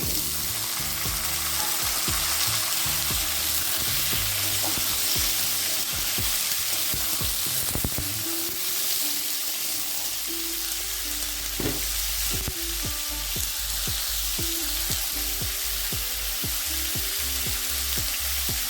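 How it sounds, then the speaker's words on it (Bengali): Cut potatoes drop into a pan of chopped onions frying in oil, bringing a steady sizzle with stirring clatter and scraping against the pan and no talking. "এবার দিয়ে দেবো আলু কেটে রাখা আলুগুলো দিয়ে"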